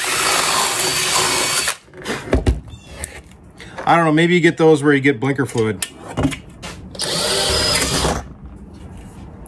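Power drill widening a hole in an RV solar rack on a bus conversion, two loud sustained whirring bursts at the start and end with scraping and clinking between, while someone talks.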